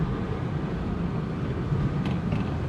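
A Datsun 120Y's small engine pulls steadily while driving on a public road, a continuous low, even drone with broadband road rumble and no breaks.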